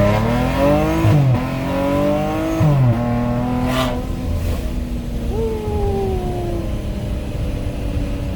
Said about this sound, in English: First drive with the muffler delete.